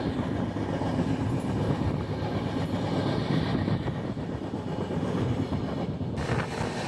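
The Himgiri Express from Jammu Tawi to Howrah runs through Bardhaman Junction on the Eastern Railway, a loud, continuous rolling rumble of wheels on rails heard steadily from on board.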